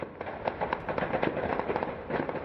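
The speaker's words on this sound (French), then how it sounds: "Les échanges de tirs sont très nourris." Dense, rapid gunfire exchange during a police assault on a printing works where armed men were holed up, heard as a steady stream of sharp cracks and pops at a distance, with no talk.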